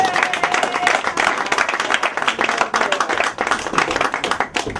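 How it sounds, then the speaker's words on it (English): A round of applause from a small crowd at an indoor talk, clapping in uneven bursts that rise and dip, with some voices mixed in. "Give Tyson a round of applause."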